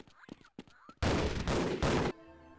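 Video game gunfire from Gordon Freeman: a few sharp clicks, then a loud burst of rapid shots lasting about a second before cutting off abruptly.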